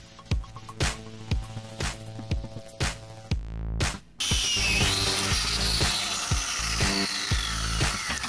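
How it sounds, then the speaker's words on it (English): An angle grinder works on hardened 30-year-old steel suspension bolts in a home workshop, with repeated short grinding bursts followed by one long, continuous, loud grind. "So you've got to grind it, and then you grind it some more, and then you keep grinding."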